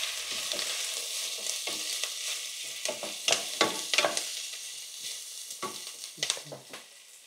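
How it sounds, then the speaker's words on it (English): Ingredients for a Spanish pork stew soften in a frying pan, giving a constant close sizzle broken by repeated scraping strokes of stirring at uneven intervals, with no voices. "Fry until softened, stirring occasionally"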